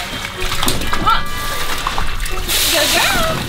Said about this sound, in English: we'll turn on the spray so that you have maximum fun